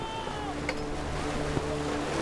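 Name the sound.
wind rising over the sea in a radio drama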